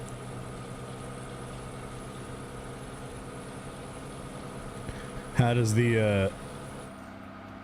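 Steady low drone of a truck engine in American Truck Simulator, running without a trailer, continuous under a voice that speaks briefly, with a louder tonal horn-like blast near the end.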